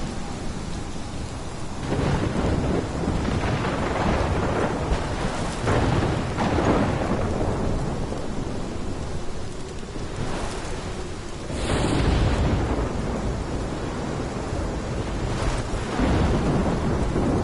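A thunderstorm in the video game Life Is Strange: steady heavy rain hisses throughout while several loud thunder cracks and rolling booms break over it at irregular intervals.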